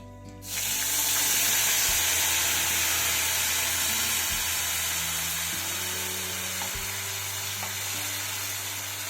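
Ground spice paste and whole cumin seeds sizzle loudly in hot oil, a steady broadband frying hiss that starts abruptly after a brief quiet moment and continues unbroken, with faint stirring knocks underneath.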